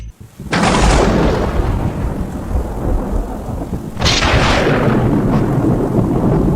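A loud thunderstorm with heavy rain and hail, with dense, continuous roaring rain and two sharp crashes of thunder, one near the start and one past the middle, each followed by rumbling.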